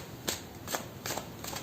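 A tarot card deck being shuffled in a few quick, soft riffling bursts at an even rhythm, close and fairly quiet.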